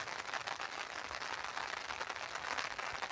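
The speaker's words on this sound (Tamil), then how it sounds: "இங்கே பாருங்கள் மழைக்கு நேரடியான காட்சிகளுங்க கனமழை" Heavy rain falls during a storm in Tamil Nadu, a dense even hiss of pouring water, steady and fairly faint throughout, with no talk over it.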